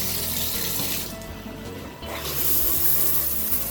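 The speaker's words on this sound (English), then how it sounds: "I'm gonna tighten it back up to show you the flow first." Water rushes steadily from a plastic shower head, a loud close hiss that briefly dips in the middle before surging back.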